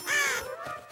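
A cartoon crow caws loudly, a harsh drawn-out call that fades after about half a second, followed by a softer second call near the end.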